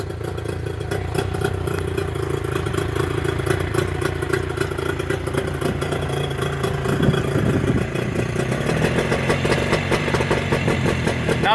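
A Mercury 25HP outboard engine fitted with Boyesen power reeds, idling loud and close with a continuous rough, clattery putter that holds steady throughout.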